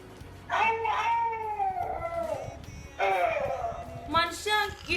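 A Talking Tom toy cat gives three drawn-out, wavering electronic meows with short pauses between them, close and fairly loud, over faint background noise.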